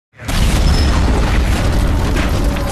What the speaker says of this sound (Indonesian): Mobil yang dikendarai jenderal pun meledak sehingga membunuh sang jenderal, dan ledakan pun terjadi di mana-mana.